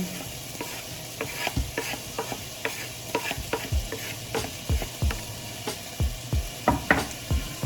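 Sliced scallions fry and get stirred in a pan for Jamaican rasta pasta, a soft sizzle broken by repeated close knocks and scrapes of the spoon against the pan; nobody talks.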